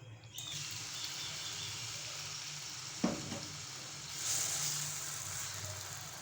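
Spice-marinated chicken drops into a greased pan and sizzles in a steady, close frying hiss, with a brief clatter partway through and the sizzle brightening near the end.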